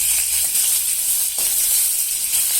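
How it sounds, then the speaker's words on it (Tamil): Eggplant sautéing in hot oil for a Tamil kalyana kara kuzhambu, a steady close sizzle and hiss throughout with a faint scrape of stirring partway through. "இப்படி எண்ணெய் போட்டு கத்திரிக்காயை நல்லா வதக்கி வச்சுட்டோம்னு வச்சுக்க, நல்லா வதங்கி போயிடும்"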